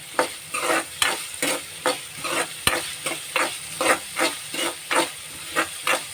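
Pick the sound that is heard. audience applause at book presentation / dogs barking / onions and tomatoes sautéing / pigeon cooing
onions and tomatoes sautéing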